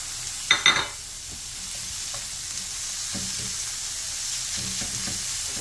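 Onion and minced meat fry in a hot pan with a low, steady sizzle, broken by a couple of sharp clinks at the start and soft stirring scrapes, without speech.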